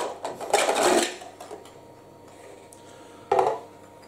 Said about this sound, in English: X1 angle extrusion printer.